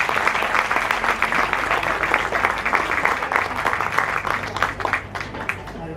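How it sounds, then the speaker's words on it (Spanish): Audience applause at the opening of a university economics week lecture series in Peru, a steady wash of many hands clapping that sustains for several seconds at full strength. "Saludemos con un aplauso"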